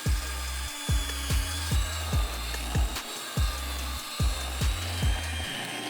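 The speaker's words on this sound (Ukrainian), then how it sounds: "Беремо міксер і за допомогою допомогою нього збиваємо наші інгредієнти" An electric hand mixer whips softened butter with condensed milk, its motor surging in a steady loud rhythm of about a dozen labouring pulses, each dipping in pitch as the beaters push through the thick mixture, with no voices.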